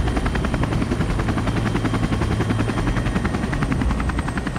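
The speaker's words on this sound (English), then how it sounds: "In the heli is spotter Chris Lee" A helicopter flying during a backcountry avalanche rescue, its rotor chopping in a fast, steady pulse at close range and loud throughout, with no voices.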